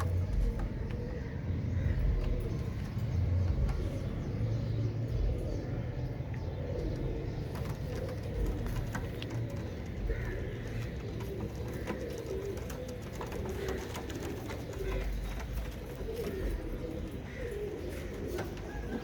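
Pigeons, including crested ones, coo softly and repeatedly over a steady low rumble of background noise, the calls continuing throughout at moderate distance.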